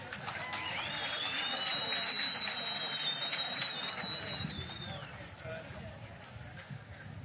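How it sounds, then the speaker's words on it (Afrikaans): Outdoor crowd at a political march clapping for a speaker, sustained rapid clapping and crowd noise for several seconds, with a high whistle-like tone sliding across the middle, gradually thinning toward the end. "'n lekker hande klap vir Flipbuys"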